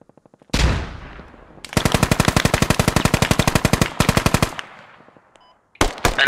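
Gunfire in the Squad military shooter game: a close, loud burst of rapid automatic machine-gun fire, then a brief pause and a second short burst, each ringing out with an echoing tail.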